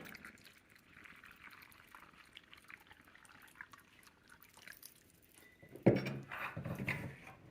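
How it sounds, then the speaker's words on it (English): Water poured onto hydrated lime in a mixing bowl, a short close splash and gush arriving after a few seconds of quiet handling, then running on briefly as a steady pour. "we're going to add 1 quart of water"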